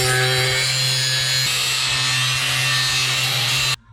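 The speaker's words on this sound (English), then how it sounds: "We need to cut here the straight line in line with the adapter." Power saw cutting a straight line through a panel during a Porsche 944 build, a loud, continuous high whine held steadily for nearly four seconds before stopping abruptly.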